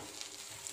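Bharwa bhindi, stuffed okra, fries in a pan with a soft, steady sizzle close by and no voices.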